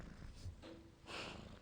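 Red the house cat purrs softly and close, a low rumbling pulse with breathy bursts, quiet and brief with no talking.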